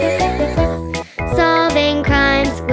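A horse neighs in a children's nursery rhyme song, loud whinnies heard alongside sung music with no separate speech, the calls rising and falling over about three seconds.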